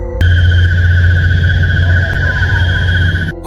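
A sustained high-pitched shrill scream or squeal rings out steadily for about three seconds over a low droning hum, starting and cutting off abruptly, with no talking.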